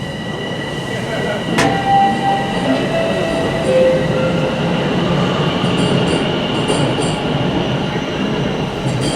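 A nearly empty southbound Toronto subway train on Line 1 at North Finch rumbles past after midnight, a loud steady roar with metallic wheel squeals and faint clicks throughout.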